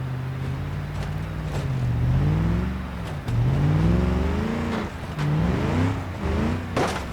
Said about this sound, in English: Quick turn off the engine before I burn it out without oil in it